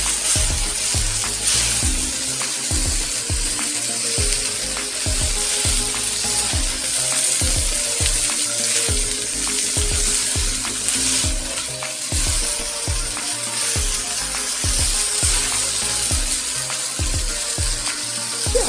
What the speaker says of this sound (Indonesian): Aduk supaya rata.